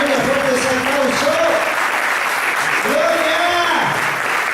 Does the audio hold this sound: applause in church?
yes